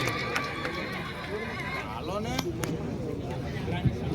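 A mare named Vijli whinnies at a village fair with horse racing, her neigh rising over a crowd as hooves clip-clop nearby; people talk throughout.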